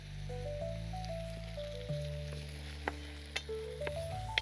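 Green chillies, capsicum and curry leaves fry in hot oil for veg manchurian, a soft continuous sizzle with occasional sharper pops, heard beneath steady background music.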